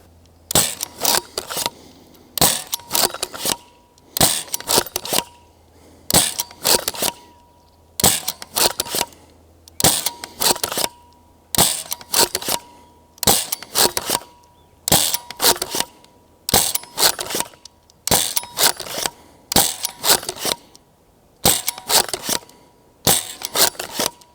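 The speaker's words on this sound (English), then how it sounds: "That's all 15 darts shot." A Nerf blaster fires NERF Pro half-length darts outdoors in a steady series of about fifteen sharp, loud bursts. Each shot is a close crack followed by a short rattle, evenly spaced with brief quiet gaps, and no talking.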